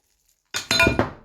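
A metal utensil clinks against a dish while ingredients for a gratin dauphinois are stirred together, with a few sharp chinks in quick succession after a moment of silence, close and fairly loud.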